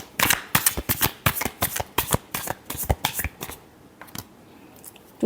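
Tarot cards are shuffled in quick, crisp riffling bursts, a dozen or so sharp flutters close by, thinning out toward the end with a few last taps.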